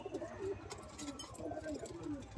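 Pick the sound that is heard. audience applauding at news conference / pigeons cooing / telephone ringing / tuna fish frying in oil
pigeons cooing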